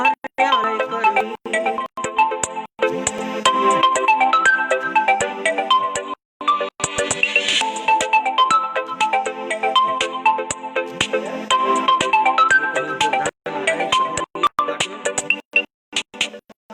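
A telephone ringtone plays a repeating electronic melody, loud and continuous with brief gaps, during an online Hindi poetry session with technical trouble and many incoming calls.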